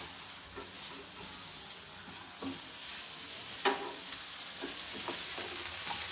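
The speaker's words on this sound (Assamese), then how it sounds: "এয়া মই বাটাৰতে ৰোষ্ট কৰি আছোঁ" Pasta roasting in butter in a pan, with a steady close sizzle and frying hiss broken by several sharp stirring scrapes and crackles, and no talk.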